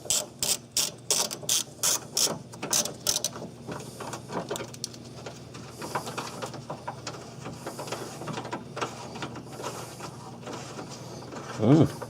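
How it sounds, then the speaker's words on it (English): An 8mm socket ratchet backs a bolt out during A/C component removal on a Ford Ranger. Loud, evenly spaced ratchet clicks come first, then softer mechanical rattling with a brief voice near the end. "I'm taking this bolt out. It's a 8mm socket."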